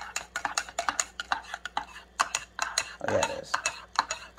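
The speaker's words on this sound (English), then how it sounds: "You can see the marshmallows. And I'm just going to stir it up." Hot chocolate with marshmallows stirred in a mug: rapid clinks and scrapes of a spoon against the cup in quick rhythm, close and clear, with a brief voice speaking over it.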